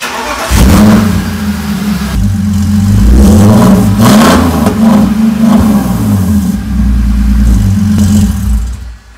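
A BMW E46 drift car with freshly bled double-caliper brakes pulls away loudly under throttle, its engine note rising and falling through short bursts of driving, then dies away as the car comes to a stop.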